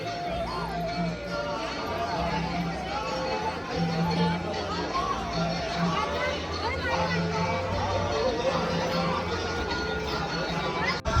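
A dense evening crowd at the ISKCON temple in Kharghar, Navi Mumbai, a steady babble of many voices with devotional bhajan-kirtan music underneath, continuous and close all around.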